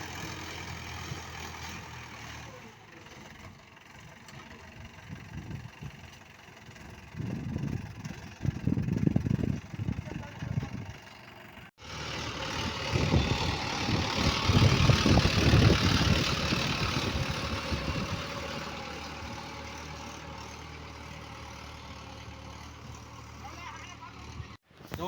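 A tractor engine rumbles while pulling a sowing implement across a farm field, a low mechanical drone that swells louder midway, cuts off briefly, then returns strong before easing to a steadier hum.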